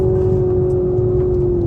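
A 2024 Nissan Altima SR VC-Turbo accelerates, its engine giving a steady, loud drone with a constant tone and road rumble and no voices.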